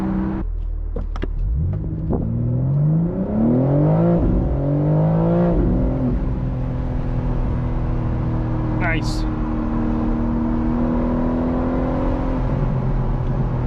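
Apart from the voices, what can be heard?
BMW M4 Competition Convertible engine revving with exhaust pops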